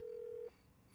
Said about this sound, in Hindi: It's ringing. Speaker speaker.